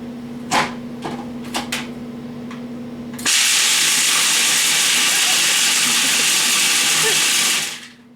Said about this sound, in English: the food processor breaks them up really nice when they're frozen